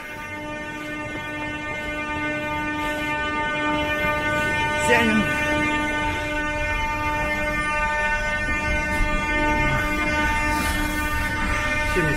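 A metro train rumbles steadily as it arrives and rides, with a constant electric whine and hum throughout and brief louder clanks, while people talk nearby.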